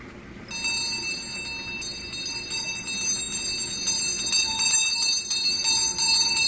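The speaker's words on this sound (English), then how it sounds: "I ring my bell in the morning." A bell rings repeatedly in a fast, continuous metallic clatter, bright and loud, starting abruptly and carrying on without pause to the end.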